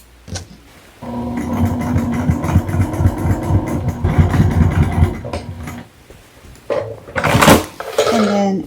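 A sewing machine stitches around the perimeter of a messenger bag strap and flap, running in a steady loud mechanical whir for several seconds, then pausing before short bursts of handling and fabric noise.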